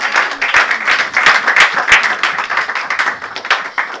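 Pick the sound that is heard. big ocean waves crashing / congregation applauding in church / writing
congregation applauding in church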